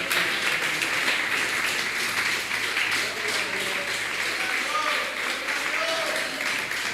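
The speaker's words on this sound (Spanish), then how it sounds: "Denle un aplauso a Jesucristo" A church congregation at an evangelistic campaign service applauds in a steady wash of clapping lasting several seconds, with murmured voices and speech mixed underneath.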